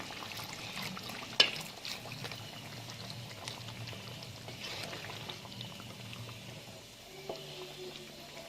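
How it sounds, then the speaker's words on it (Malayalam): Water poured into a coconut-based fried chicken curry, a soft steady liquid wash with light bubbling in the pot and a brief clink early on, heard alone without talk. "കൂടെ വെള്ളം ചേർത്ത് കൊടുക്കാം."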